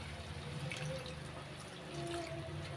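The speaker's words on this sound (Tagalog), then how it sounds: "Lagyan natin tubig." Water running from a tap into a cooking pot of pork and mushrooms, a steady, fairly faint pouring and splashing that lasts the whole moment, with no talking over it.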